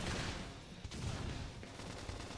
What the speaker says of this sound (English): Lay down cover fire.